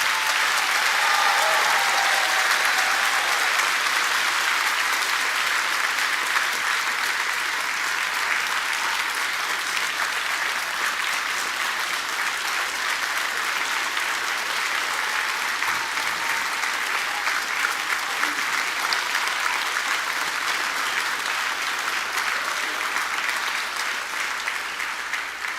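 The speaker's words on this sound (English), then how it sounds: "Let's give them a well-deserved round of applause." At a fire recruit class graduation, a large audience applauds the graduating recruits. The clapping is loud, dense and continuous and holds steady for nearly half a minute.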